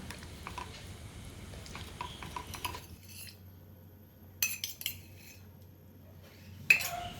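A spoon scrapes and clinks against a pan as thick jackfruit halwa made with ghee is stirred, with scattered metallic taps and a sharper clink near the end, fairly quiet and without talk.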